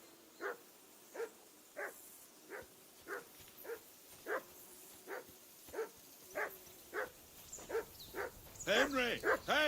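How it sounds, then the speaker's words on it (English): A dog in the video game Kingdom Come Deliverance 2 barks in a steady, evenly spaced series of about a dozen sharp woofs, moderately close, before a burst of quicker, excited yelps and whines at the end. "Call off that mutt of yours!"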